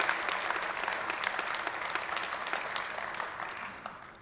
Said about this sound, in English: So I'd like to give Coach Forbes a round of applause for all that he's done for this program